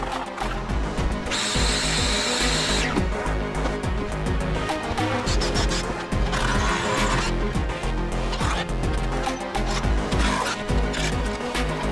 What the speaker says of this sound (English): So I've got the concrete screws to drill it down into the wall, into the brickwork, into the top.